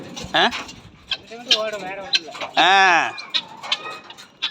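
Chickens cluck and squawk close by, one drawn-out cackle standing out, while a person talks over the birds.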